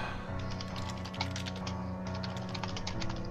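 Quick clusters of key taps come from a computer keyboard during a game session, faint and steady, with a low musical bed running beneath them.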